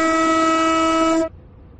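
A train in a train driving video game sounds a loud, steady horn blast as it arrives at a platform, then the horn cuts off abruptly, leaving quiet background noise.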